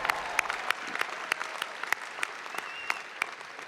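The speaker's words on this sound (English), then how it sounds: "Yeah, give it up. Yeah, you can clap, it's okay." Thin, scattered clapping from a commencement crowd at NC State University, with sharp individual claps standing out at irregular intervals over a faint, hollow room background.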